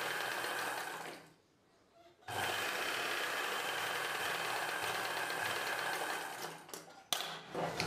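Sewing machine stitches blouse fabric with a steady, close mechanical whir, stops briefly, then runs on evenly with a few short stutters near the end.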